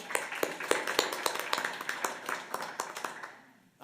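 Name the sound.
applause at a school board meeting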